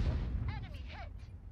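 An artillery salvo in World of Tanks gives a short, deep rumbling boom at the very start, with someone talking right over it as it fades.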